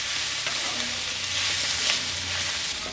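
Onions and curry leaves frying in a pan, a loud, continuous hiss of sizzling oil close up, with faint stirring movements underneath.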